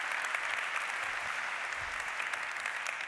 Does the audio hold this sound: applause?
yes